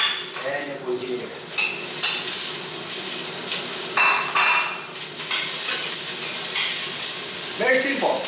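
Onions and ginger sizzle steadily in a hot pan while a utensil scrapes and stirs them, the frying hiss loud and continuous, with a voice speaking briefly at the start and end.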